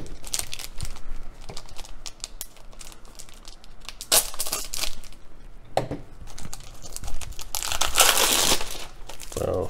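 Crinkly plastic packaging of a Dollar Tree Transformers sticker set is torn and crumpled open by hand. The crackling and rustling is close and continues in irregular bursts, loudest near the end.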